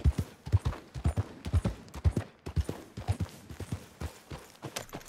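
A horse walks in the Red Dead Redemption 2 video game, its hooves clip-clopping in a steady, even rhythm, close and fairly soft, with no talk over it.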